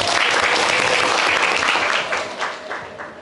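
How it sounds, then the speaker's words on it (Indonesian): A classroom audience claps for a student poster group, a dense burst of applause that holds steady before thinning out toward the end. "beri aplaus dulu untuk kelompok poster"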